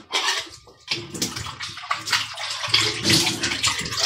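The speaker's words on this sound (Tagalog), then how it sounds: "Hugas ako pinggan." Dishes being washed under a running tap, a steady rush of water with clinks and sloshing splashes up close, varying in intensity as items are rinsed.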